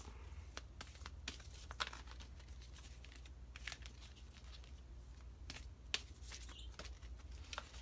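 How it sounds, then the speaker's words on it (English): Oracle cards being shuffled by hand at close range, a quiet series of crisp riffling and flicking bursts spaced irregularly over several seconds against a low steady hum, with no talk. "So I'm just going to shuffle these."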